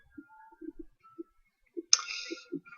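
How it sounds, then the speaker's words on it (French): Scattered computer mouse clicks, a few single taps and pairs spread across a quiet room, with one brief burst of broader noise partway through; no talking. "Eh bien, je clique dessus."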